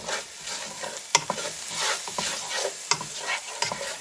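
Salt being stirred into a Turkish-style bulgur pilaf in a pan, a steady scraping stir over a soft sizzle with a few sharp spoon clinks against the pan, close and alone with no talking.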